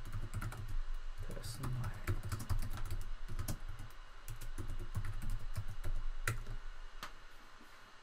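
Quick, light keystrokes on a computer keyboard as a product name is typed in, a run of close clicks and taps with a person talking over them.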